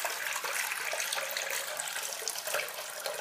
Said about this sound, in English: So now I just gonna drain the water.